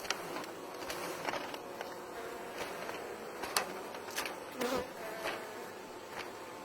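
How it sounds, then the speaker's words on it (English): Many bees buzzing steadily nearby as they are shaken into a hive during a newspaper combine, a dense droning hum with scattered louder passes and light clicks throughout. "you can see there's a lot of bees here"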